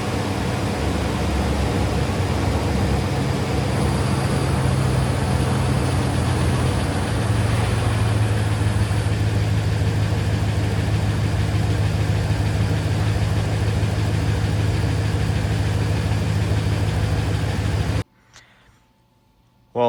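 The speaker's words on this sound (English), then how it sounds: "HEMI ticks are when you are turning on the engine and you hear that tick" A Dodge 5.7L HEMI engine idles steadily with a faint lifter tick from worn lifters, a constant close mechanical drone that cuts out near the end.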